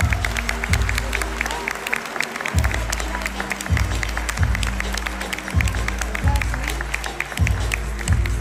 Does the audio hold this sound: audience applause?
yes